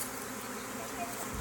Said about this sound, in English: Lots of bees fanning, but there's still lots of bees clustered right here too.